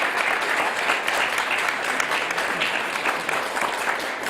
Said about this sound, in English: So I'd like to have a round of applause for them there.